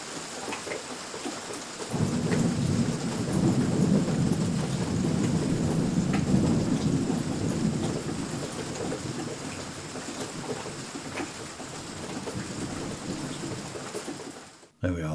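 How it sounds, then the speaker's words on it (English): Steady rain with rolling thunder, a dense continuous wash that swells and rumbles for several seconds, then fades slightly before cutting off abruptly. "here's a little bit of thunder and a little bit of rain for you"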